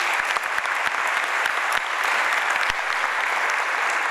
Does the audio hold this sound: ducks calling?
no